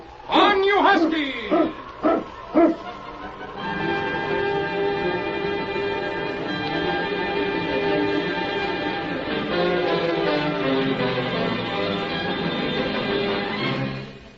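Husky sled dogs bark in a short rapid burst at the start, then voices talk over a steady outdoor rumble through the rest.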